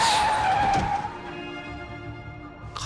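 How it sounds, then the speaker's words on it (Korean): A bus brakes suddenly at night with a loud, high tire skid squeal that fades over about a second into a rumbling roll and settling noise. "갑자기 급브레이크를 밟는 소리와 함께 버스가 거칠게 확 멈춰서는 거예요"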